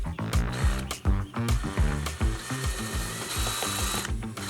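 Power tool at work while a chicken coop frame is built, a rapid stuttering mechanical whir in short uneven bursts with sharp clicks between them.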